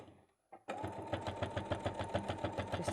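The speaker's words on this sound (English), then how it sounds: "we're just going to baste going all the way around" Up close, a sewing machine bastes around the edges of a bag, starting after a brief pause and short blip and then running a steady, rhythmic stitching chatter at a regular pace.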